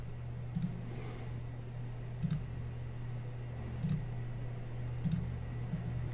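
Computer mouse clicking while working in the uScript editor, four sparse, distinct clicks spaced about a second apart over a low steady hum.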